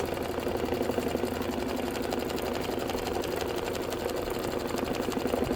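An embroidery machine stitches a letter Y onto a tote bag, a steady rapid needle patter running evenly from start to finish at moderate volume.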